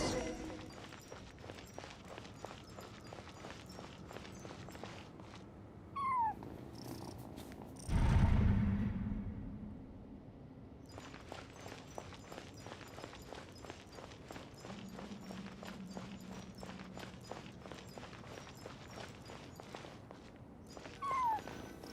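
A cat cries and meows in the video game Genshin Impact, heard within a steady, rhythmic, purring texture of game sound that continues throughout, with a louder swell partway through.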